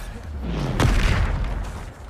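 A Bombarda spell in Hogwarts Legacy goes off as a single deep boom with a sharp crack at the start and a short rumbling tail.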